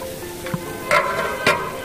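Meat curry with whole green chillies being stirred in a pan at a home celebration feast, steady sizzle with a few distinct scraping strokes of the spoon, close and moderately loud.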